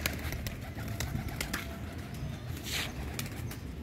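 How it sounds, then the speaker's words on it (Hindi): Pigeons coo softly in a low, steady murmur over a busy outdoor background, with a few brief wing flutters and no talking. "देखें लाइन सिर कितने कबूतर बैठे हैं"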